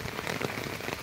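Steady rain falls outdoors during a fishing trip with nets set out, a dense, even hiss of drops striking surfaces with no voices.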